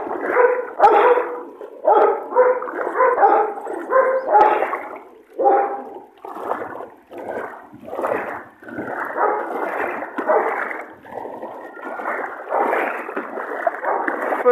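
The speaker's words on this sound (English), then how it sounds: "This dog having a good time in it." Dog barking while playing in floodwater on a village bypass road, a long run of loud, close, repeated barks and yips in quick bursts, with some splashing water audible underneath.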